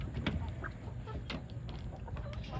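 Backyard coop chickens clucking softly, with a few brief low clucks and rustles against quiet farmyard ambience, no talking.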